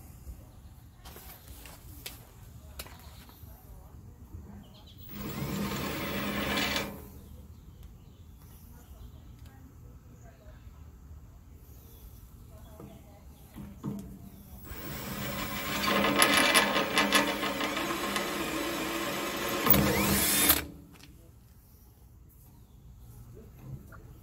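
A power drill boring pilot holes into a Tractor Supply trailer frame for a Harbor Freight tongue box, two whirring bursts of drilling, a short one and then a longer one, with quiet pauses between.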